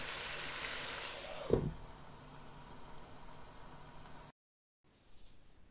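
Pieces of tangerine sizzling in oil in a frying pan while a pie is made, a steady broadband hiss with one louder pop, then a short silence and fainter sizzling.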